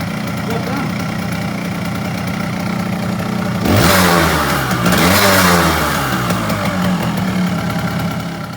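A Kawasaki KH125 Grasshopper motorcycle engine idles with a buzzy two-stroke note, then revs up sharply midway and holds higher revs before settling back. It is close and loud.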